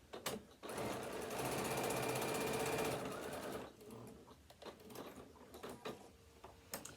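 A sewing machine set to a big stitch runs fast over fabric for about three seconds, a loud steady mechanical whir, then stops, leaving faint clicks and handling noises close by.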